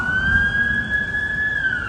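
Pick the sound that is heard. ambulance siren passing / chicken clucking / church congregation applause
ambulance siren passing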